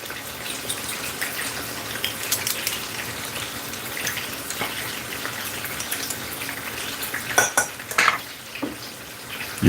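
Garlic fries in a pan with a steady, close sizzle while being stirred, and a few sharper utensil clinks and scrapes come near the end.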